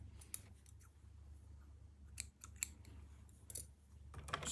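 Scissors snip waste yarn from a piece made on a knitting machine for baby pants. Several quiet, crisp cuts come at irregular intervals, close by, over a low background hum.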